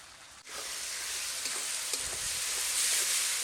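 Ginger, garlic, cumin and chilli pastes fry in a pan with a loud, steady broadband sizzle. Faint stirring scrapes run throughout, with no talking.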